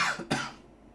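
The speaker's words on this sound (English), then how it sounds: "I've still got this cough" One short, harsh cough comes close and clear, with a brief lead-in and a quick fade after.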